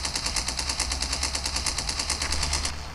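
Steady, rapid machine-gun fire strafing a plane in the Wings of Steel flight game, loud and continuous for about three seconds.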